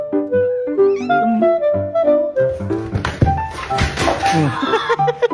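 A cat meows several times in drawn-out, tonal cries, close by, with some clattering and background noise toward the end.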